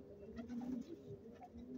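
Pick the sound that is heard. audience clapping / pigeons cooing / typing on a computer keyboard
pigeons cooing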